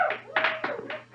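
Applause from a studio audience at a live television show, short bursts of clapping rising and falling over about a second, moderately loud with no talking.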